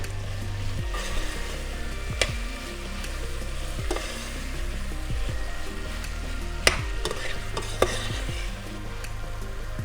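A pan of ingredients frying gently over moderate heat, giving a continuous low sizzle with scattered pops and a few sharp stirring clicks, close by and without speech, lasting several seconds.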